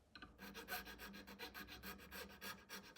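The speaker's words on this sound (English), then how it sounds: "After cleaning the fret slots, I always add a little chamfer with triangular needle file." A triangular needle file rasps across guitar fret slots as they are chamfered, a quiet, close run of quick rhythmic strokes with no talking.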